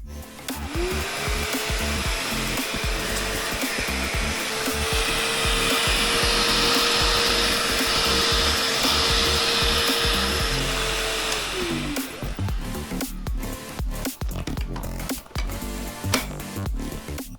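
A Bissell Little Green ProHeat carpet cleaner runs with its suction on, a loud steady motor whine with airy hiss that holds for about twelve seconds, then winds down, followed by clunks and handling noises.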